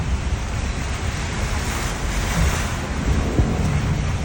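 Flood water fills a Manila street near the Sheraton, a loud, continuous rushing wash of moving water with a broad noisy roar, steady throughout with slight surges.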